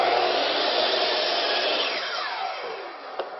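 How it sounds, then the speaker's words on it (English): A miter saw cuts squarely across a wooden board for a simple window box, a loud, steady whine of blade through wood that holds for several seconds, then tapers off at the end of the cut. "the miter saw is going to make a square cut across there anyway"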